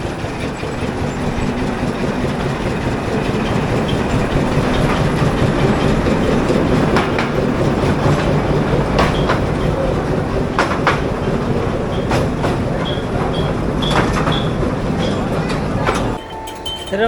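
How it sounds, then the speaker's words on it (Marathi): A train, likely a mini train near the Elephanta Caves outside Mumbai, runs steadily on its rails with a continuous rumbling clickety-clack and metallic clinks, close and loud for most of the stretch before easing near the end. "इथून पण चालते ती ट्रेन तिथपर्यंत"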